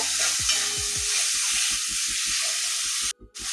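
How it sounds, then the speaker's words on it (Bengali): Rohu fish heads being stir-fried in a pan sizzle steadily while a utensil scrapes and stirs in a repeating rhythm, close up; the sizzle cuts out briefly near the end. "এভাবে আবারও 2-3 মিনিট ভালো করে কষিয়ে নেব।"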